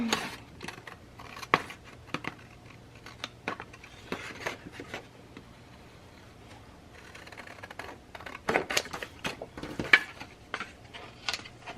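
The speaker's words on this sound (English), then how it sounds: "I'm going to cut off this band here" Scissors snip a band off a traveler's notebook cover, with sharp crisp clicks in irregular bursts close by, separated by quieter pauses and growing busier toward the end.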